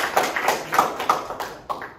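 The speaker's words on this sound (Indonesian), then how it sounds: "Kasih aplaus." Scattered hand claps from a small seminar audience at a motivational talk, a dozen or so sharp, close claps in an uneven rhythm that thins out toward the end, with no voices.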